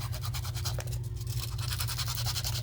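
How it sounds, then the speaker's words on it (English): Sandpaper rubbed on the leather strap of a Birkenstock sandal gives a steady, close scratchy rasp with quick back-and-forth strokes running through the whole stretch, with no talking. "show you what happens when you take the sandpaper"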